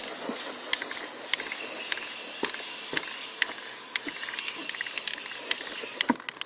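Spray paint hisses from an aerosol can in bursts, close and fairly soft, with short sprays separated by brief gaps and small clicks during a clothespin sunflower wreath craft.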